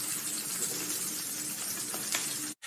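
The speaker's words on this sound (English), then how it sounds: "We interrupt this podcast to listen to Bacon Sizzle." Bacon sizzles and crackles steadily in a pan, a dense close hiss with a few small pops, stopping abruptly at the end.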